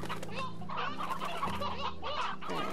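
Clucking chickens fill a Slime Rancher ranch, a dense, close flock of repeated clucks and squawks over soft background game music, with no talking.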